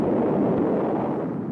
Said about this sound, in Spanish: Explosión baja.